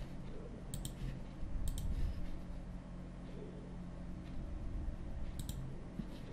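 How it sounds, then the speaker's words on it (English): Mouse button clicks on a Windows computer, sharp and close, coming in quick double-click pairs at a few moments against a quiet room hum. "So just double click it to extract this zip file."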